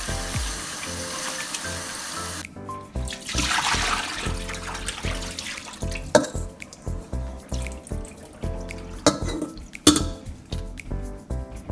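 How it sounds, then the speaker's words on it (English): Chicken wings are rinsed under a running kitchen tap, with water splashing and trickling in uneven bursts, handling clatters in the sink, and occasional sharper knocks, close and moderately loud with no voices. "so we're gonna wash the wings, rinse them off."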